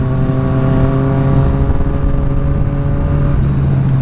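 A 2020 Triumph Street Triple RS 765 motorcycle engine pulls steadily under part throttle, a loud, close, continuous droning hum with strong steady harmonics and no voices.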